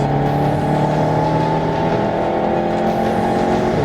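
A modified VW Golf 7 GTI producing 359 kW and 750 Nm accelerates hard, its engine roaring loud, steady and close with a dense, continuous drone heard from inside the car.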